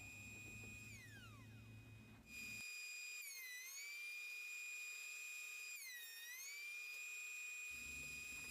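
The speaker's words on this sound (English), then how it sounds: "I'm running this through the planer on the sled" A wood planer planes a board riding on a sled in a woodshop. It gives a quiet but steady high motor whine with rising and falling pitch sweeps as the board feeds through, and no talk.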